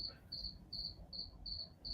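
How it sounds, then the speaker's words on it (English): A cricket chirping indoors, a high shrill pulsed chirp repeating at a regular quick rhythm, clear and fairly close over a quiet low background hum, with no talking. "I think I actually have two crickets in here."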